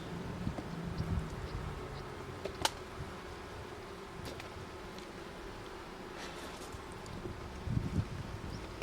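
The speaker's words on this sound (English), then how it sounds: "even the little bit that's leaked out the bottom has attracted so many wasps" Wasps buzzing around honey leaked from the bottom of a bee nuc box, a faint continuous hum outdoors with occasional closer fly-bys and light wind.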